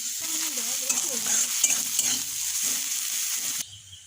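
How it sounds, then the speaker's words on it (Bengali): Onions fry in a pan with ginger paste and salt added, giving a loud, close crackling sizzle with stirring noises that cuts off abruptly near the end. "পেঁয়াজটা লাল লাল ভাজা অবধি অপেক্ষা করবো।"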